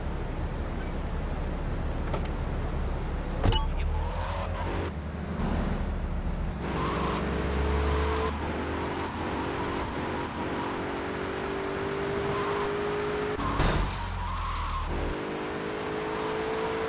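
A car drives in the video game GTA 3, its engine revving and shifting through gears with a steady tonal drone, a sharp impact early on and another loud bump later.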